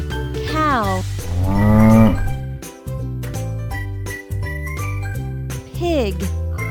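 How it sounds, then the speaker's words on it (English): A cow moos in a children's animal game, two drawn-out lowing calls near the start and a shorter one near the end, loud over bouncy backing music with tinkling bells. "cow,"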